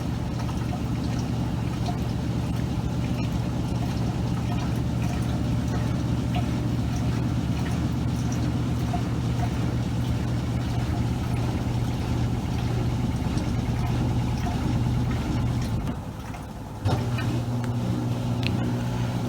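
A Maytag washing machine on a spin cycle washing pillows: a steady, droning rumble with a continuous low hum and washing swish, running loud and even, briefly dipping near the end before resuming.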